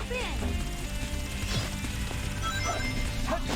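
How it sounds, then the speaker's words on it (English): In Sonic Adventure 2 Battle, glass smashes with sharp crashing hits amid busy game effects and music, with a short, clattering burst of breaking panes. "Break the glass and jump in."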